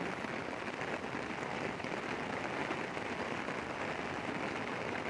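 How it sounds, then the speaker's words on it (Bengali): Heavy monsoon rain pours down during a flood, a dense, unbroken roar of drops at steady, moderate loudness with no voices. "বৃষ্টি তো আপনার একেবারেই থামতেছে না, মুষলধারে বৃষ্টি পড়তেছে।"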